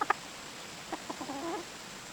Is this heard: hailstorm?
no